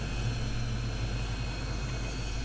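A jet airplane in flight in GTA San Andreas gives a steady, droning engine roar with a constant low hum, unbroken and even in loudness for a couple of seconds.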